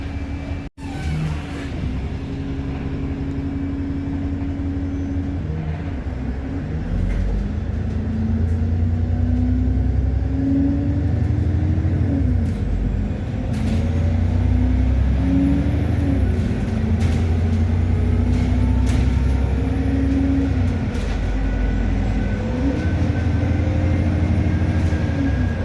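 Ride aboard bus SN66 VYA (fleet number 10756) running down a fast road: a steady, loud engine drone with shifting whine as it accelerates and changes gear, continuous road rumble throughout, no talking.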